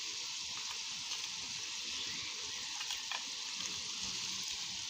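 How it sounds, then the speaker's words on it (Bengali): Previously fried fish heads go into a simmering fish curry, giving a faint, steady sizzle and bubbling with a few soft stirring clinks, heard alone without voices. "ঝোলটা আমার ফুটতে লেগেছে। এখন এই ভেজে রাখা মাছের মাথাগুলো দিয়ে দিব।"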